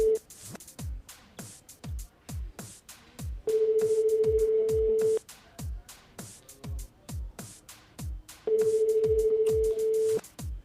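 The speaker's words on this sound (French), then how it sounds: "ton téléphone sonne" A phone ringing on a live call-in radio show, two long steady electronic rings separated by a gap, heard over rhythmic thumping music.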